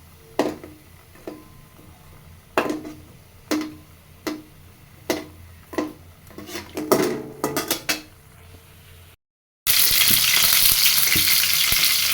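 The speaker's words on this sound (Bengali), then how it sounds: "পটেটো ভুড়ি ভেজে নেব" Potatoes frying in a pan: a run of sharp spatula clanks and scrapes over a low sizzle, then a loud, steady hiss of oil filling the last seconds.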